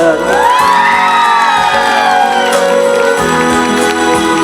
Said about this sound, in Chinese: 给自己一个尖叫声加热情的掌声